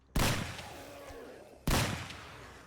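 Two loud, close shotgun blasts from 7 Days To Die with an Escape From Tarkov mod, spaced about a second and a half apart, each a sharp crack that rings out and decays.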